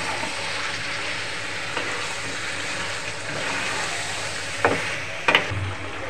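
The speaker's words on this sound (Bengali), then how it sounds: "ভালো করে কষাবো।" Marinated chicken sautés with spices in a pan, a steady close sizzle with occasional stirring scrapes and a few sharp clacks near the end, no talk.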